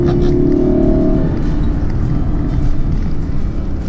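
A Lexus LC 500 Convertible engine revs and pulls hard on a hill climb, its loud tone dropping as it shifts, heard from inside the car without talk.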